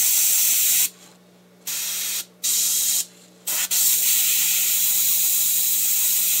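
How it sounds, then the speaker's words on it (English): An airbrush sprays paint into the cracks of a coin bank, giving a loud, steady hiss in several bursts with short quiet gaps between them. "So I have an airbrush here that I'm going to use for it."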